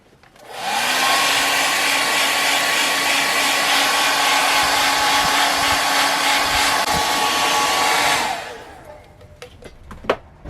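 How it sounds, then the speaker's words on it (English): A blow dryer roars continuously at close range as it dries a wood bowl, switching on with a rising whir, holding a steady hum for about seven seconds, then shutting off into a few light clicks. "I'm going to use a blow dryer to dry it, to make it faster"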